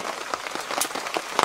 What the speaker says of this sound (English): It started raining about 4 o'clock. But now I appreciate the rain today.